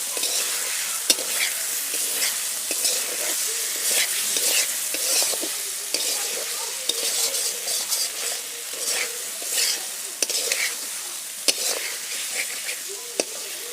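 A pan of potato curry for aloor dum sizzles loudly as a little water is poured in, with continuous frying hiss, stirring scrapes and occasional sharp spoon clicks against the pan.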